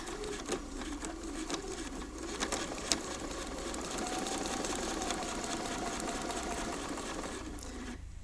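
A sewing machine stitches Velcro onto fabric in a steady, continuous whirring run with light mechanical patter, close and moderately quiet, slowing to a stop near the end.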